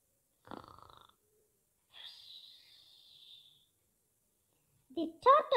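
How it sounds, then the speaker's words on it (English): A cartoon hare snores in an animated Aesop fable about the tortoise and the hare: a raspy inhaled snort followed by a long high whistling exhale, then a voice starts speaking. "He heard the hare snore."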